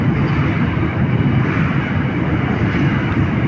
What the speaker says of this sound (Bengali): অনেক বড় ট্রেন, ঠিক আছে।